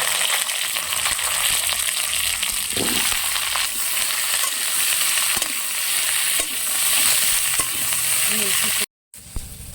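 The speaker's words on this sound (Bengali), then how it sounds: "ভেন্ডিটা আমি ভালো করে ভেজে নেব।" Steady oil sizzle of okra frying in a heated pan, with occasional scraping and clinks of stirring, continuous and close.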